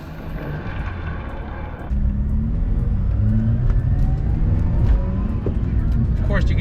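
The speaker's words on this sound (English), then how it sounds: "you can hear that little rotary engine rev." A Mazda RX-8's small rotary engine drones steadily while driving, then steps up louder about a third of the way in, its pitch sweeping upward as it revs, heard from inside the car.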